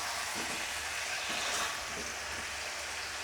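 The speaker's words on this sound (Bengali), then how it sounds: "এইভাবে নেড়ে নিচ্ছি।" Potatoes for a Bengali aloo dum curry frying and being stirred in a pan, a steady close sizzle with faint scraping throughout.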